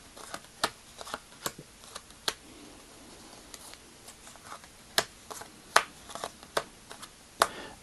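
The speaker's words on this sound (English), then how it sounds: "now you take each half and perform an LR shuffle on each half" Playing cards being handled and riffled in LR shuffles on each half of a deck, a series of sharp, close snapping and flicking clicks at irregular intervals over quiet background.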